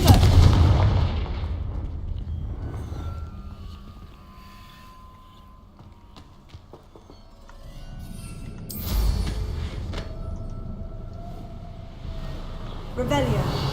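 Fiery Confringo spell blasts in Hogwarts Legacy: a loud burst near the start, a quieter stretch, then a second heavy explosive blast around the middle followed by rumbling game sound, with a voice speaking over parts of it.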